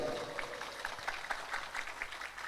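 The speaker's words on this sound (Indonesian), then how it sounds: "Sebelumnya tepuk tangan untuk 13 komunitas nih kak." Scattered applause from a gathering at an Islamic religious event, a few light, uneven claps over a soft murmur of the crowd.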